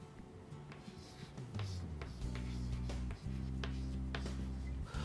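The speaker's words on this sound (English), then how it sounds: "Let me just draw a simple example up here." A marker or chalk drawing a simple diagram on a classroom board, with short scratchy strokes scattered through a steady low hum and no talk.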